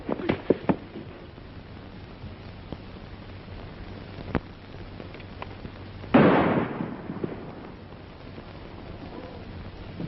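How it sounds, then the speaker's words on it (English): A single gunshot in a western film cracks out midway through, loud and close, with a short ringing tail above a quiet room tone dotted with faint knocks. "That shot came from over there."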